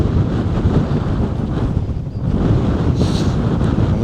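Strong wind buffets the microphone in a steady, heavy rumble that roars throughout, with no voices present.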